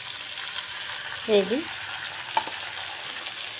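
Cumin, ginger, green chili and onion spice paste sizzling and frying in a pan, a steady close hiss with a brief stir, while a voice speaks a couple of words.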